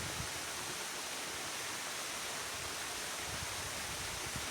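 Water tumbling down a small waterfall into a stream pool, a steady, dense rushing wash that stays constant and close throughout with no voices.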